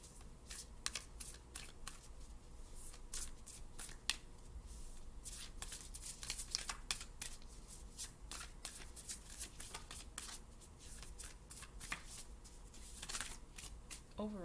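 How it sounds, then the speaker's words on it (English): Oracle cards being shuffled by hand, a rapid run of crisp riffling slaps and flicks, close and fairly quiet, continuing steadily throughout. "Now I'm gonna pull an oracle card"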